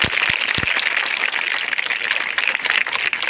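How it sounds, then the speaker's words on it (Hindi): Audience applause for a girl during a disaster-management training session: loud, continuous clapping from a nearby group, with a few sharper claps at the start. "बेटी के लिए जोरदार तालियां बजा दीजिए"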